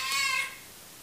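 A house cat gives a single short meow, close and fairly faint, fading quickly into quiet room tone.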